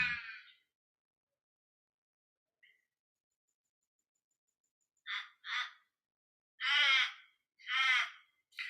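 Several crow caws ring out in open quiet, a short call near the start followed after a long pause by a run of harsher, louder caws in quick succession toward the end.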